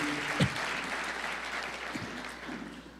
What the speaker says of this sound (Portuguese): Um forte aplauso, fique de pé em nome de Jesus